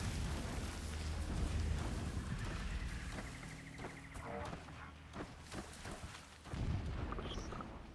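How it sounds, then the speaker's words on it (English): Explosions in the video game Horizon Zero Dawn rumble as deep, repeated booms beneath a busy layer of game sounds, rolling on and off through the stretch at a moderate level. "I'm not a fan of the explosions I keep hearing."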